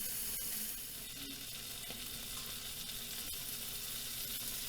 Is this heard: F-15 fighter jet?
no